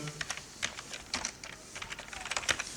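Rapid, irregular keystrokes on a computer keyboard while entering text for a school exam document, close and fairly quiet, with no voices.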